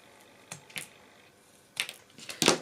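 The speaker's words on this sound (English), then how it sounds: "These are my scissors for heavy duty, and I just sort of cut off" Heavy-duty scissors snip through a strip of material in a few short, sharp cuts, quiet at first and then a louder burst of clipping near the end, with no talking.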